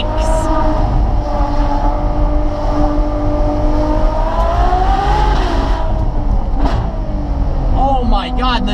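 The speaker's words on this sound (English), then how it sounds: "the noises it makes on downshifts" A Ferrari 812 Superfast V12 drones at steady high revs, then its pitch swoops down and back up in quick blips on downshifts, heard up close from inside the car.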